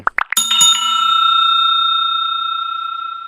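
Notification bell sound effect: a few quick ticks, then a bright bicycle-style bell strikes once and rings out in a long, clear, slowly fading tone, loud and alone.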